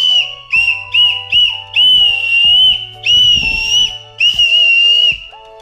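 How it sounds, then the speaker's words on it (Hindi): A toy whistle shaped like a gun is blown in a series of shrill, piercing blasts, several short toots followed by longer sustained ones, loud and close with no talking. "और गाइस ये एक सीटी है,"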